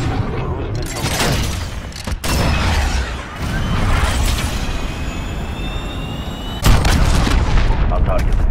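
Heavy explosions and gunfire rumble through a Call of Duty: Modern Warfare team deathmatch, with several loud booming blasts and crackling shots, a big impact near the end, and faint voices in the mix.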